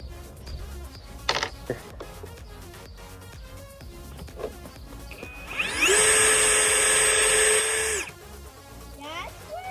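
A power drill whirs up loudly for about two seconds as it bores a pilot hole in a deer skull, with quieter clicks and handling noises before and after.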